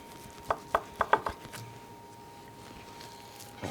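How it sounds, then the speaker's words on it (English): Knife tapping on a cutting board while trimming fat off beef for finger steaks: five quick sharp knocks in a short burst, then quieter soft cutting sounds, close by. "we're gonna take one at a time, and we're gonna start cutting off the beef"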